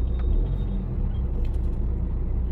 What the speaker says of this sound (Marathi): बघा किती ट्रॅफिक आहे बघा.